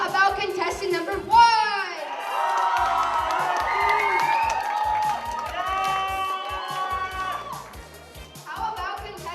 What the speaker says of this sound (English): We need everyone to cheer as loud as they can for their favorite contestant.